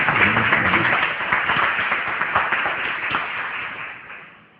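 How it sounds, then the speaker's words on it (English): Audience clapping at a talk, a dense patter of many hands that starts loud and close, then thins and fades out over a few seconds, with no one speaking. "Y'all give a hand clap"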